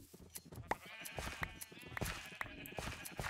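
Several sheep bleat in Minecraft, repeated short calls overlapping at close range against a busy game background, with no talking.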